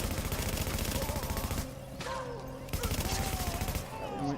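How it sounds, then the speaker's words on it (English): Sustained automatic gunfire from cover fire in The Division, rapid bursts rattling almost continuously with a short lull mid-way, loud and close, with someone talking over parts of it. "Now we'll provide cover fire."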